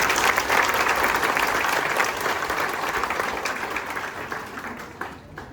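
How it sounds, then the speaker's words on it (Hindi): A hall full of people at a railway board retirement function breaks into applause, loud sustained clapping from many hands that slowly thins and fades toward the end. "सबके आप लोग एक ताली हो जाए"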